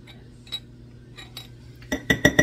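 Minced garlic is spooned out of a glass jar, a few light metal-on-glass clinks and taps, sparse at first and then a quick cluster of sharper clinks close at hand.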